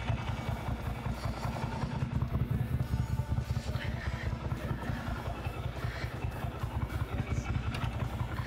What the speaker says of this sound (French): est-ce que tu entends le ding ding ding qui vient de là? Eh ben c'est normal, c'est ça l'embrayage à sec.